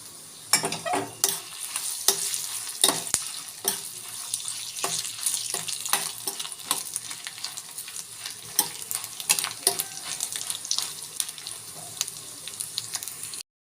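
Coriander, chili and black pepper frying in a pan, with a continuous sizzle broken by frequent sharp scrapes and taps of a stirring spoon, close and fairly loud throughout.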